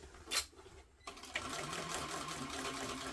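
A sewing machine stitches a tote bag, starting after a brief pause and then running in a continuous, steady whirring drone, fairly quiet and close.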